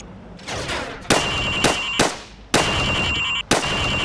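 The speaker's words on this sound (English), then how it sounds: "Now, shoot at the targets while firing from the hip." Rifle fired from the hip in the Call of Duty Modern Warfare video game: several loud, close cracks in quick bursts, with ringing echoes trailing each shot.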